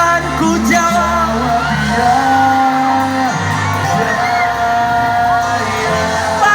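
A church congregation at a youth revival service in Rote Ndao shouts together in one loud, sustained mass of voices lasting several seconds, with overlapping whoops and yells.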